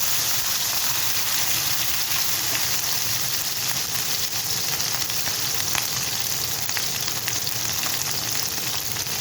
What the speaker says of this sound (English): Let the onion soften. You see it's spitting already.